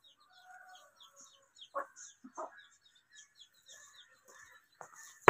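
Chickens are fed millet grain mixed with a little wheat, giving soft, high peeping chirps and a few throaty clucks, close and fairly quiet against near-silence, with no talking.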